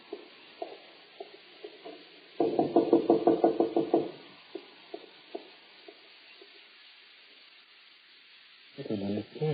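A dramatized old-time Christian radio drama scene with knocking on a door: a short burst of rapid, loud raps near the start of the sequence, scattered single knocks after, then another cluster at the end.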